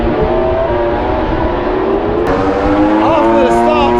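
MotoGP racing motorcycles screaming past at Lusail circuit, a dense, loud, continuous engine roar with rising pitch sweeps as bikes pass and brake, with a voice talking underneath.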